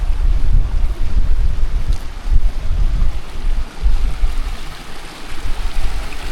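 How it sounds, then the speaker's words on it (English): Gusty wind buffets the microphone outdoors among coastal rocks, a loud, continuous low rumble that rises and falls in waves with no voices. "Quite breezy."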